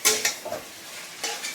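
Potatoes are dropped into a home kitchen pot of onion, garlic and capsicum soup, giving a few close, light clinks and knocks spaced over a second and a half.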